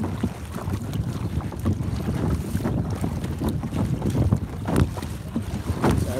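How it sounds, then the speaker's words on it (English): Gusting wind buffets the microphone while choppy water slaps and splashes around a fishing kayak being paddled into the wind, a rough continuous roar with irregular splashes and no talking. "Now that I'm pushing back into the wind, it's a bit choppy."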